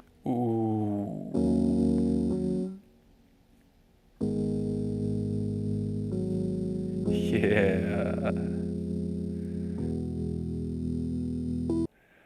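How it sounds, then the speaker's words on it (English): Zoom Sampletrak sampler on its gritty lo-fi setting plays back sustained, harmonically rich tones in loud phrases, with a short gap near the start and a warbling swept passage midway, ending abruptly; a voice briefly speaks. "we listen to the lo-fi setting, but it might be too grimy for most people"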